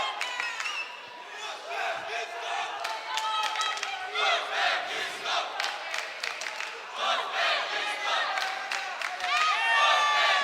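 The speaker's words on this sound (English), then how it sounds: "There's the crowd dialing up the decibel level once again here" A boxing-match crowd at Budva Arena roars and cheers through the finals of a youth world championship, loud sustained shouts and whoops swelling in waves, with some claps and voices mixed in.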